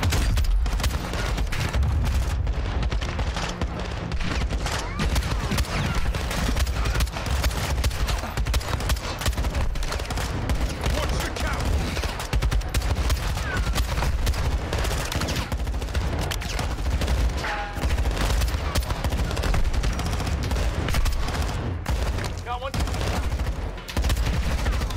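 A video game firefight with loud, relentless gunfire: rapid automatic bursts and single shots overlap without pause, crowding out nearly everything else.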